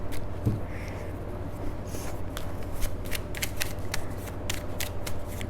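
Tarot cards being shuffled by hand, a steady papery riffling and slapping that runs continuously at close range, with quiet room tone and no talking.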